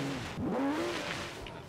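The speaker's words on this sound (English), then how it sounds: "whoever just revved their Porsche, that freaking echoed" A Porsche flat-six engine revs in Forza Horizon 3 on a snowy mountain: one fairly faint, rising and falling rev that sounds somewhat distant and echoing, with no speech over it.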